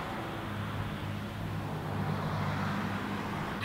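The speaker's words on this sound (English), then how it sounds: "these cars are so loud and they keep passing by." Loud cars passing by on a road near an outdoor orchid growing area, a continuous broad traffic rumble and roar that swells slightly mid-way, heard without any talking.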